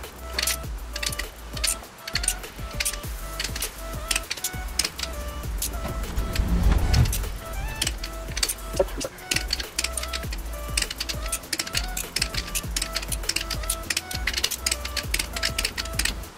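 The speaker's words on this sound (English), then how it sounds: "Now I'm gonna torque all these acorn nuts down to 18 pound-feet of torque." A torque wrench tightens the acorn nuts on a YZ250 two-stroke cylinder head to 18 pound-feet, giving a long run of rapid ratchet clicks and metallic mechanism noise that stays close and steady throughout.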